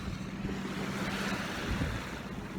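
A sailboat motors with its engine running on a windless day heading for Caernarfon Bar, a steady low engine drone under continuous wash of sea and wind noise, no voices.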